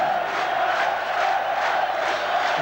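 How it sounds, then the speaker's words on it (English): Large football crowd at a packed stadium in Tel Aviv during a 1986 World Cup qualifier, Israel against Australia, roaring and cheering steadily, a dense continuous wall of voices swelling in waves with no clear speech. "This packed crowd here in Tel Aviv, getting right behind this Israeli side now."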